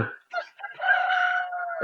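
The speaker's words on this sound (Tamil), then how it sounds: "கோழிலாம் கூவுது" A rooster crows once in a Roblox video game, a drawn-out, rising-then-falling call, clear and fairly close.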